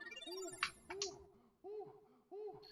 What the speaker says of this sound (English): now Mario sounds like an owl